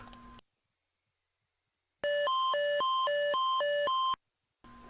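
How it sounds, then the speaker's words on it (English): Electronic beeps from a memory video game play as a quick run of alternating tones for about two seconds, loud and alone between stretches of silence. "it's really nice to hear that beeping sound when you get it right"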